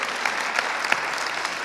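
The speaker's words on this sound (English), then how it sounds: "big applause" An audience at an interview event claps in a brief, dense burst of steady applause.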